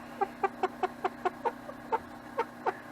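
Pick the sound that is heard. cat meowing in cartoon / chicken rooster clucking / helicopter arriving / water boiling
chicken rooster clucking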